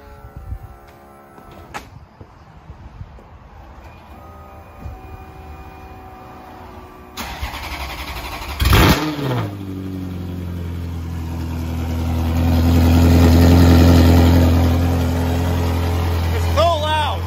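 A barn-kept Ferrari engine cold-starts with a sharp crank and catch, then settles into a loud, rough idle that swells into a steady rising drone, close by, with people talking over it.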